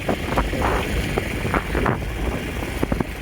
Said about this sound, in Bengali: দেখতে পাচ্ছি কত সুন্দর হাওয়া দিচ্ছে